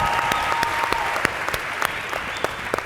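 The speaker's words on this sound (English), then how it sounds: "The levels of applause when I said my name and I said their name are just like a little different" Studio audience applauding warmly at a live comedy conversation event with Tiffany Haddish and Kevin Hart, a steady wash of clapping with a few sharp individual claps standing out, fairly close and sustained throughout.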